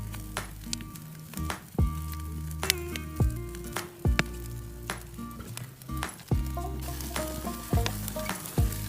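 An organic ribeye steak sizzles over a bonfire grill outdoors, a steady frying crackle with frequent sharp pops and clinks, close and alone.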